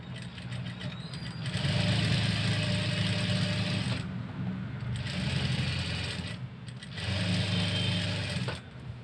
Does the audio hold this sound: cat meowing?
no